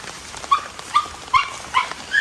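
Bingo, a dog, gives a run of five short, high yips at a steady pace, close by, with a soft rain-like hiss underneath.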